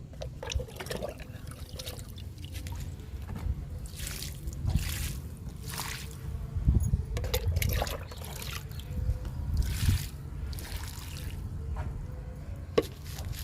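Chilli plants in pots being watered, a steady stream of water trickling and splashing into soil close by, with brief drips and pauses, continuing throughout without speech.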